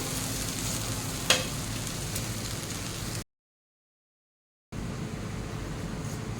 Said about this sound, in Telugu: మిరియాల పొడి జీలకర్ర పొడి ధనియాల పొడి లెమన్ పొడి ఉప్పు అంతా వేసేస్తున్నాను ఇది బాగా మిక్స్ చేసుకోవాలి